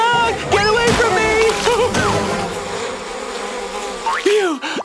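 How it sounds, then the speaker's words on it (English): Cartoon bees buzz loudly in a swarm, a dense droning hum with rising and falling whines as they dart close, filling the scene with brief vocal exclamations mixed in. "Where are all these bees coming from?"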